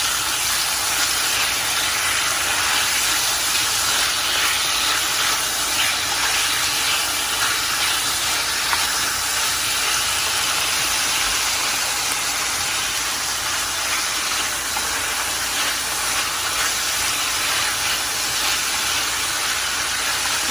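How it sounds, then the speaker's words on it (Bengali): Chicken pieces frying together with onions in a pan, giving a steady, loud sizzle and hiss that runs without a break the whole time, with no voices. "পেঁয়াজের সাথে আমি চিকেনটা দিয়ে দিব, কারণ পেঁয়াজ ভাজার সাথে সাথে চিকেনটাও হালকা ভাজা যাবে।"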